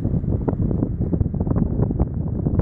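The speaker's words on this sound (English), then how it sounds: "20 mile an hour winds from right to left right now." Strong 20 mph wind gusting across the microphone on an outdoor kicking field, a loud continuous buffeting roar with pulsing surges and no talk over it.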